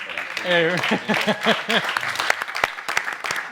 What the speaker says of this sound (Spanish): un aplauso para los ponentes y otro aplauso para el público